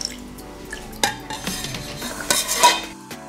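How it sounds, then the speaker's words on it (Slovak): Milk being whisked in a pot on the stove for hot chocolate, a wire whisk scraping and stirring in steady strokes with light clinks against the metal, close and fairly loud, with no talking. "Nezabudnite s toho miešať s takouto metličkou, aby vám to neprihorilo."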